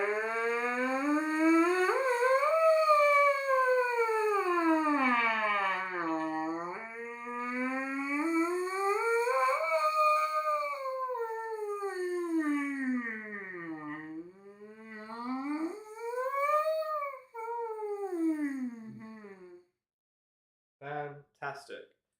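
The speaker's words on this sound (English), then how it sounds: "I'm able to buzz up and buzz down, and it sounds a bit like a siren" Trumpet mouthpiece buzzed on its own, the pitch gliding smoothly up and down in repeated siren-like sweeps, close and fairly loud, fading out with a few short blips at the end.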